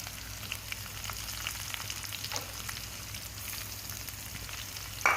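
Steady sizzling of onions frying in hot oil, with occasional scraping and stirring, continuous and close with no talking.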